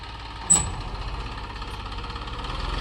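A low, throbbing tractor engine idles steadily nearby, a brief sharp squeal cutting in at the start.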